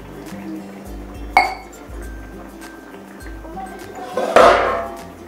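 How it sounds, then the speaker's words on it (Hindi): Water is poured into a pan of cooking pumpkin sabzi in a home kitchen, with a clink of metal and then a near, splashing pour that swells toward the end, over a low background hum. "अब हल्का सा इसमें डालेंगे पानी"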